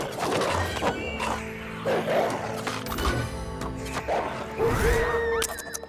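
Dogs barking and yipping in the video game Sintopia, several sharp barks and growly yelps recurring through the clip over a busy game soundscape with crashes and music.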